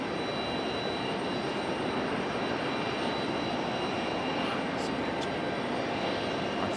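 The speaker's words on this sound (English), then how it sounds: "Our CRJ is on the move." A CRJ regional jet moving at RDU airport gives a steady, dense whine and rumble of jet engines, close and unchanging, with a few faint high ticks near the end.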